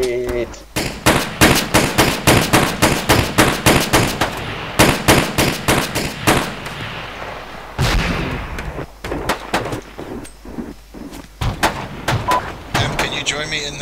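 Rapid bursts of gunfire and heavy explosions from a grenade fight in the military video game Arma 3, loud and near, with dense volleys broken by short pauses and voices talking over the shooting.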